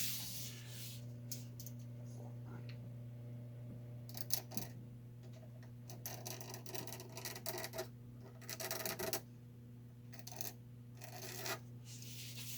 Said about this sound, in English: I'm just going to scrape that glue off using the point of the blade